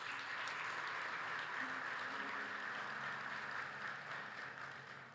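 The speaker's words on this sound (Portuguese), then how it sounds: "Você pode aplaudir o Senhor Jesus?" Church congregation applauding, a steady wash of many hands clapping at moderate distance, faint and continuous, tapering off toward the end.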